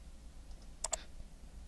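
Two quick close clicks of a key being pressed on a computer keyboard while working in an Excel spreadsheet, sharp and separate against a quiet room.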